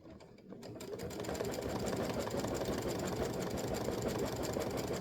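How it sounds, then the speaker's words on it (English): An embroidery sewing machine stitches a bird's eye in a steady, fast, mechanical chatter, close and moderately loud, starting after a brief quiet moment and running without pause. "the last thing to stitch is the eye, and you just stitch"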